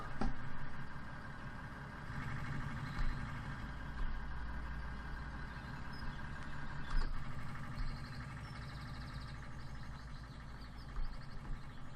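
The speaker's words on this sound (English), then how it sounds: "it's a noisy tractor, that thing" A noisy tractor engine in a farming video game runs steadily at idle, a continuous low mechanical drone with a faint higher whine and small bumps, alone with no talk.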